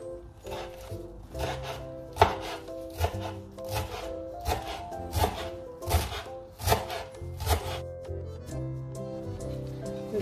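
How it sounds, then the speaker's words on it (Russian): A knife chops fresh herbs rhythmically on a wooden board, a quick series of close, crisp thunks with light scraping between them. "нарезаем зелень."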